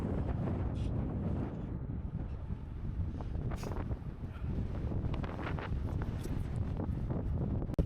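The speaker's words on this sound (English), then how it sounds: "climbing a massive hill into just some nasty headwind" Strong headwind buffeting a microphone as a gravel bike with bikepacking bags climbs a big hill, a constant loud low roar with gusty swells and no voices.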